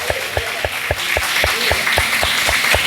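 A church congregation at a worship service applauds in a dense, steady wash of clapping, with a rhythmic beat of claps pulsing evenly through it.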